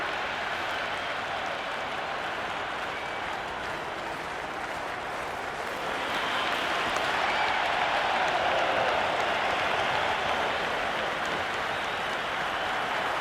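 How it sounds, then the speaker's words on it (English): A cricket crowd at a match applauds steadily as a new batter walks out, the sustained clapping swelling louder partway through. "The crowd is electric right now."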